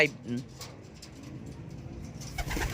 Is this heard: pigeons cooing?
yes